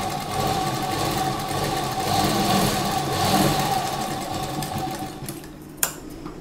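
A sewing machine runs a continuous whirring, rattling stitch close by, sewing a slip's seam a second time to strengthen it. It stops abruptly near the end with a sharp click.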